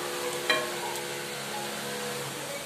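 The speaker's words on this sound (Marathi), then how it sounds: "आणि दोन्ही साइडने मस्त छान कुरकुरीत होईपर्यंत आपल्याला आता हे कटलेट तव्यावर भाजून घ्यायचे आहे" Veg moong-poha cutlets sizzling on a griddle pan, a soft steady frying hiss with a faint clink near the start, quiet and continuous with no talking.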